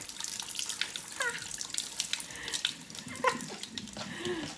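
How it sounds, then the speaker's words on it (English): Rice being rinsed in a bowl under a running kitchen tap, a steady rush of water with sloshing and swirling as grains are stirred, close and continuous throughout. "Really important step, you've gotta rinse your rice."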